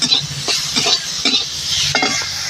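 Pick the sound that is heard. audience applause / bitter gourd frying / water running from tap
bitter gourd frying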